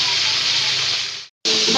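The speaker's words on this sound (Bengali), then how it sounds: "তো এখানে হচ্ছে কিছু রোস্ট ভাজতে দিয়ে দিচ্ছি" Spiced roast pieces frying in a pan, a loud, steady close-up hiss of hot oil that cuts out abruptly for a moment near the end before resuming.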